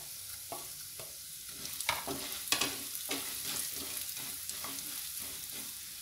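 Whole cumin and ground pepper hitting hot oil in a pan, a steady bright sizzle with scattered crackles and pops that swell briefly mid-way, then settle into an even fry; no voices.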